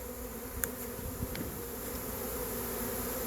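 A swarm of honeybees flies in the air and gathers at the entrance of a hive, a dense continuous buzzing drone heard close by with no voices.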